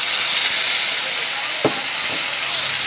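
Spice paste goes into hot oil in a pan and sizzles with a loud, steady hiss that fills the moment, with a couple of faint knocks beneath.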